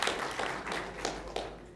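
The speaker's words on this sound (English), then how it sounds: "they deserve a round of applause." Room applause at a county commissioners' public hearing, honoring staff: a short, steady patter of clapping from a modest group, loud and close for under two seconds with no talk over it.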